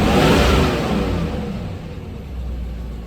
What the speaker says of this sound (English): I'm gonna just rev it up because the neighbors are up.